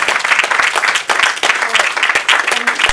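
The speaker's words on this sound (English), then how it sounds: "they deserve another round of applause" Loud, close applause from an audience at a filmmakers' interaction event, many hands clapping with sharp distinct claps over a dense crowd wash.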